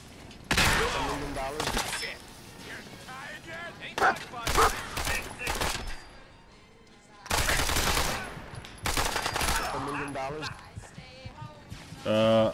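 Bursts of rapid automatic gunfire from the video game Fallout 4 strike the player, coming in several loud volleys separated by short pauses.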